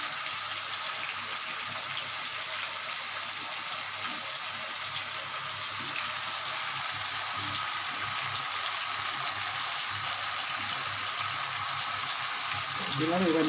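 Half-boiled Malabar spinach stems are added to a hot pan for a fish-head chochchori and stirred, giving a steady, close, hissing sizzle throughout with a brief louder scrape near the end.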